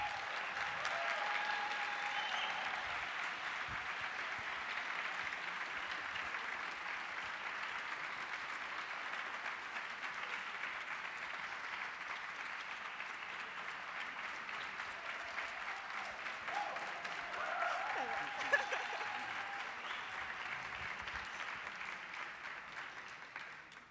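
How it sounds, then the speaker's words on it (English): Steady applause from a seated audience welcoming Viggo Mortensen at a 20th-edition conversation event, sustained for the full stretch at a moderate, even level with a slight swell near the end. "un tonnerre d'applaudissements pour VIGGO Mortensen"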